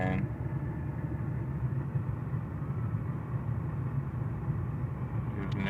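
A car engine rumbles steadily at low revs during a steep hill start, a constant idling drone close by with no clear rise or change.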